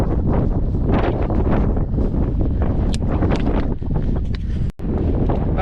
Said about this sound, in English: hopefully this is picked up on the mic, on the GoPro, because it is very windy